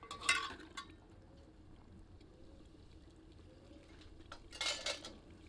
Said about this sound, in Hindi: अच्छे से करछी चलाते हैं और आंच तेज कर देते हैं।